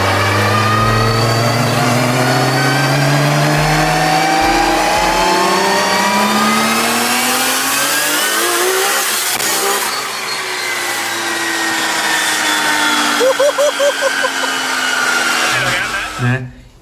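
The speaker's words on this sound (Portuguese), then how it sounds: "me mandaram esse carro acelerando nas ruas do Paraguai" A Nissan Skyline GT-R R33 fitted with Greddy parts revs hard on a Paraguayan street. The engine note climbs and falls in long, loud sweeps with no talk over it, then ends in a few sharp blips.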